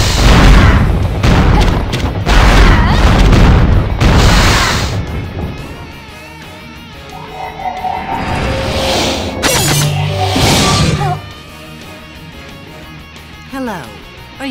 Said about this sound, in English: Commencing bombardment.